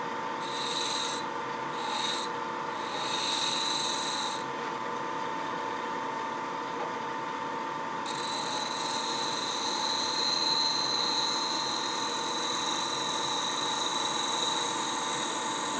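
Skew chisel taking fine shavings from a turning wood clamshell box on a lathe, a soft continuous rubbing hiss over the lathe's steady hum, with brief high-pitched scraping bursts early on.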